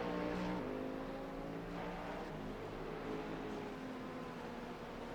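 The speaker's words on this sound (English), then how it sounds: "Here we've got Fabian going through turn 17, trying to keep the car on the racetrack here." Race car lapping Sebring, heard through a sustained, steady engine drone with gear changes as it works through a turn, continuous at moderate distance with no talk.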